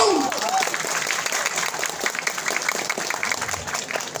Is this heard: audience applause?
yes